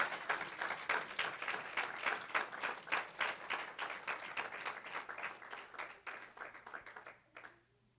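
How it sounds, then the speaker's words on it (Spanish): A church congregation claps in a steady rhythmic applause, dense and fairly distant, fading out near the end. "Denle un fuerte aplauso al Señor."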